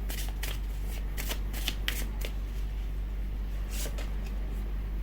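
Tarot cards being shuffled in bursts of brisk riffling and flicking, close and fairly quiet, with short pauses between runs over a steady low hum.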